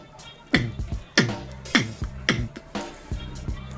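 Mouth beatbox imitating a bongo drum with rim shots: sharp percussive pops in a steady repeating pattern with softer hits between, close and dry, no speech.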